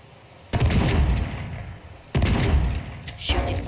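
Two loud bursts of rapid gunfire in the destructible voxel game Teardown, each a dense crackling volley lasting over a second, separated by a brief pause.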